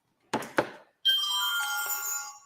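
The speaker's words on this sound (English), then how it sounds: "that's my phone going off" A mobile phone ringtone goes off indoors, a bright, tonal electronic melody that rings steadily after two short knocking thuds, loud and close.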